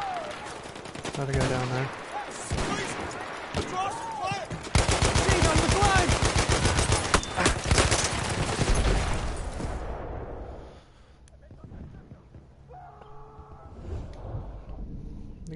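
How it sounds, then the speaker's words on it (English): Rapid machine gun fire in Battlefield 1 rattles out in a loud, sustained burst lasting several seconds, then cuts off to quieter background noise, with a player talking at the start. "Fire the machine gun!"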